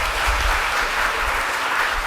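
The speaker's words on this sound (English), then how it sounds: "let's give one more hand of applause to all of our performers today" An audience at a spring recital claps steadily after the performers finish, a dense, even applause that fills the room without a break.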